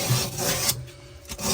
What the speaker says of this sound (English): I like to kind of sand down these edges of here